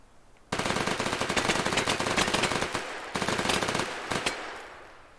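Full-auto gunfire from a weapon in a VR video game: a loud, sustained burst of rapid shots starting abruptly, briefly pausing, then resuming in a second rattling burst before trailing off.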